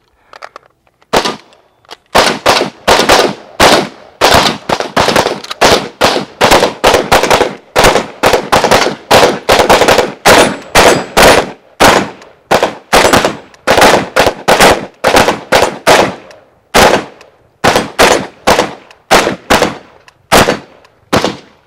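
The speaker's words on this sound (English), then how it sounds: "We're going to dump a mag of each of those rounds that we just shot at it" Full magazines of rifle rounds dumped at an AR680 steel plate on a range: long runs of loud, sharp rapid-fire shots in quick bursts with brief pauses between strings, continuing for about twenty seconds.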